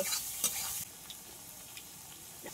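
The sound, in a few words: stirring tomatoes into spices frying in oil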